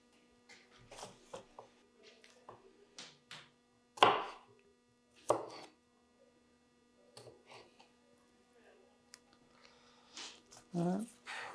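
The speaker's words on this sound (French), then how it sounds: "Allez, on va couper la cive." Chinese chives being sliced with a knife on a cutting board, a series of sharp, separate chops in uneven rhythm, close and clear over a low electrical hum.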